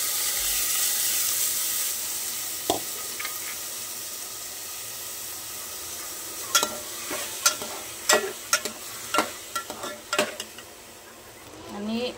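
Rice frying in a little oil in a cooking pot on a gas stove, a soft sizzle under a run of sharp metallic scraping and stirring knocks in the second half.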